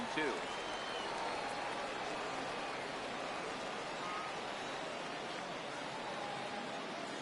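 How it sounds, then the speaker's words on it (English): Stadium crowd noise from an MLB The Show 18 spring training game between the Baltimore Orioles and Philadelphia Phillies: a steady, loud, broadband roar of cheering fans that holds throughout, with no break. "Crowd gets up for the 3-2."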